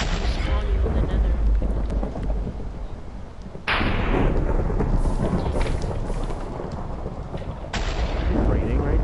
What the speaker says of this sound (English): Is it raining right now? Yes. You can hear it raining.